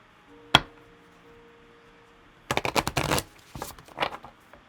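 A single card snap, then a quick riffle shuffle of tarot cards with rapid fluttering clicks, followed by a second shorter shuffle, close and fairly quiet.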